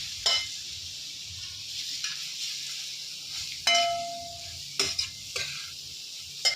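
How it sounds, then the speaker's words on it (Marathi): Grated carrot for gajar halwa roasting in a pan, a soft low sizzle broken by several distinct stirring scrapes and spoon knocks against the metal, close and fairly loud. "आता आपण हा चांगला भाजून घेणार आहोत जराशी हलवते मी"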